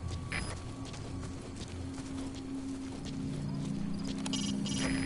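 Horse hooves clip-clopping in the Metal Gear Solid V video game, a quiet, rhythmic run of hoofbeats with a snort or whinny, set against faint game ambience.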